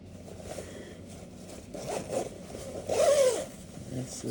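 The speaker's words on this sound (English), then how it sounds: "That's the zipper going up." A protective suit's zipper is pulled up before a dryer vent cleaning job, giving a bright rasping zip close to the microphone over soft rustling of fabric.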